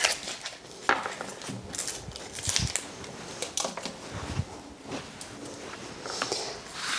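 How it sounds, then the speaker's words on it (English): An onion being peeled and sliced on a cutting board in a kitchen, heard as faint scattered taps, knocks and papery rustles over a soft noisy background, with no speech. "we're going to peel the outside of the onion off."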